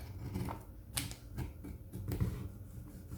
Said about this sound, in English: So cutting right on or nearest to the fabric, to the pattern line, cut the fabric.